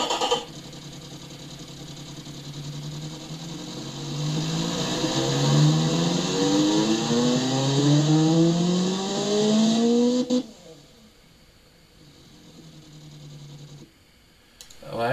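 A simulated inline-4 car engine with a second muffler in the Automation game revs up in rising sweeps, a buzzy four-cylinder drone climbing and falling repeatedly, then dropping back to a quieter idle.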